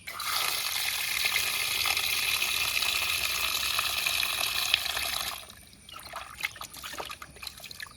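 Water runs steadily from a tap over fish being washed for several seconds, then cuts off, leaving quieter splashing and handling sounds.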